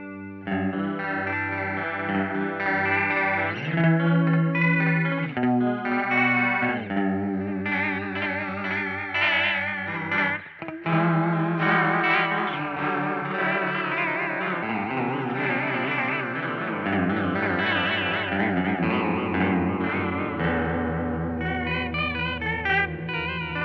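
Electric guitar through an Earth Quaker Devices Sea Machine V3 chorus pedal with the animate knob being adjusted, giving a steady stream of warbling, wavering chords and notes with rich modulation.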